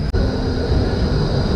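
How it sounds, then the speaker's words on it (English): Steady low rumble of a Melbourne tram passing close by, loud and continuous with a broad hum and no voices. "Waiting for a tram to St Kilda."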